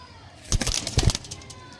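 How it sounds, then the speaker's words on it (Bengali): A female pigeon being released, its wings beating in a short loud burst of flapping close by, two quick clusters of flutter within a second. "চলো পায়রা ছেড়ে দেখি তোমাদেরকে তো ফার্স্ট চালাম মাদি"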